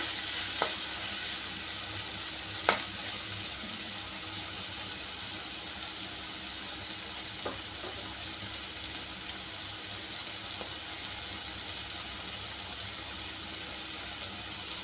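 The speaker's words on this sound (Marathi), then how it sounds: "परतून घ्यायचं हे सगळं एकजीव करून थोडंसं त्याला तेल सुटू दे" Chicken mince sautés in oil with a soft, steady sizzle, joined by a few faint clicks of a spoon. Quiet and continuous, with no talking.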